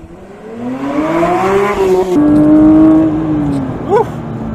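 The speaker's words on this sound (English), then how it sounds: "Hopefully you're just hearing the wail of that flat 6," A 2022 Porsche 911 GT3's flat-six engine revs hard toward 9,000 RPM, its rising wail climbing in pitch through gear changes, loud and close from inside the car.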